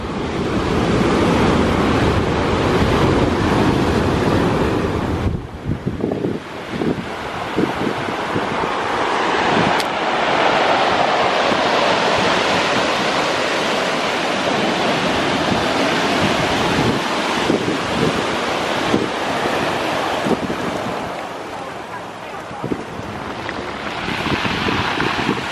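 Ocean waves at high tide on Nantasket beach surge and wash in loudly, with a steady roar of surf and wind gusts hitting the microphone, briefly easing midway before building again.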